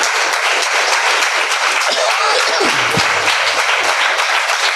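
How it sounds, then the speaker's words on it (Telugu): A church congregation claps loudly and steadily during a Telugu Sunday sermon, a dense continuous wash of many hands with brief voices rising above it. "ఒకసారి దేవుని వాక్యాన్ని బట్టి బిగ్గరగా చప్పట్లు కొట్టి ప్రభు నామాన్ని ఘనపరుద్దాము"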